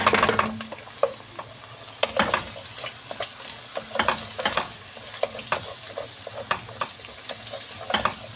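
A spoon repeatedly scrapes and clanks through fried onion and minced meat with tomato paste in a pot, irregular knocks over a soft sizzle, close and clear with no talking.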